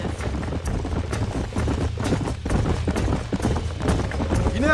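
Horse hooves galloping across open ground in Red Dead Redemption, a steady rapid clip-clop with a low rumble beneath it that holds at close range for several seconds.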